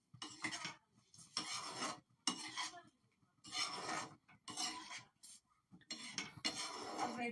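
A metal spoon scrapes and clinks around a pan of butter paneer gravy in bursts of stirring with short pauses between them, close and crisp, with no talking.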